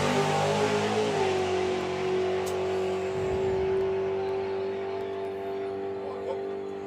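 Two-seater dragster at Santa Pod's Dragstalgia drag racing event launching down the strip, a loud engine roar that settles into a sustained tone as it pulls away, with an announcer's voice over the PA.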